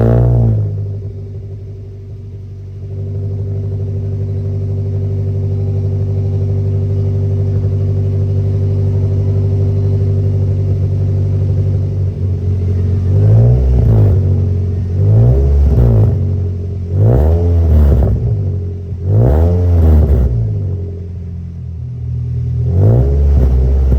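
Mazda Demio Sport engine fitted with a 41 mm header exhaust, idling with a steady rumble, then revved in a series of sharp, loud throttle blips, heard close with no talk.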